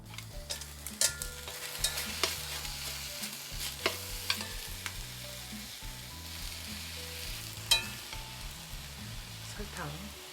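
Garlic scapes sizzle and crackle in a hot pan while being stir-fried, with intermittent scraping and clinks of a utensil throughout.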